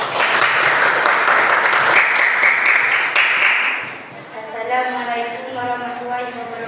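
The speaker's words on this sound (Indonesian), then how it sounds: "Yuk tepuk tangan dulu." A classroom group applauds as students are called to the front. Dense clapping fills the room for a few seconds before fading, and talk follows.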